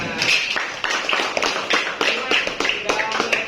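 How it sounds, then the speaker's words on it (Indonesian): A school class clapping hands together in a classroom, a rhythmic burst of many claps in quick uneven beats, with some voices mixed in underneath. "Ya, tepuk tangan semuanya."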